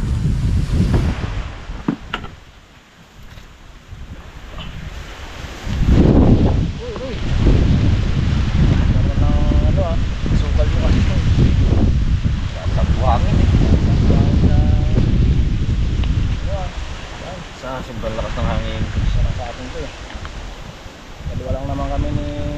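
Strong wind buffets the microphone on a small fishing boat at sea, rumbling in heavy gusts that ease briefly, with people talking now and then under the noise.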